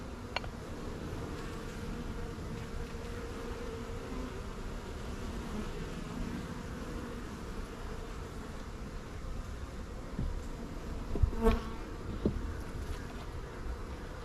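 Honeybees buzz around an open hive during an inspection of a weak colony, a steady low drone of many insects at close range with a few louder passes near the end.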